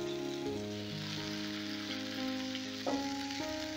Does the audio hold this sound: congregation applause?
no